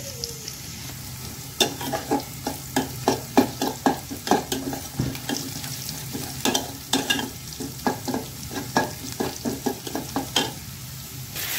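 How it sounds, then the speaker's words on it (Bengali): Chopped onion and garlic fry in oil with cumin and bay leaf for tempering dal, a constant sizzle broken by a rapid series of sharp spatula scrapes and taps against the pan. "রসুন পেঁয়াজ কুচি দিয়ে ডালটাকে বাগার দেওয়ার জন্য পেঁয়াজটাকে ভেজে নেওয়া হচ্ছে"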